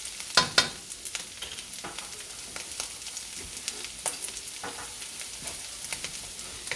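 Turmeric fried rice with ham is stirred in a hot pan, giving a soft, continuous sizzle broken by scattered clicks and scrapes of the utensil. The sound is fairly quiet and close, with no voices.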